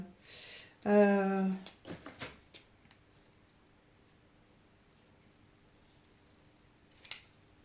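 Scissors cutting through laminated plastic label sheets, a few crisp snips close to the microphone followed by quiet, with a single brief voice sound near the start.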